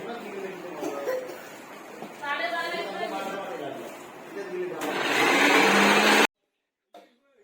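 A mixer grinder whirs loudly for a couple of seconds grinding chicken masala, under and after people chatting and laughing nearby, then cuts off abruptly.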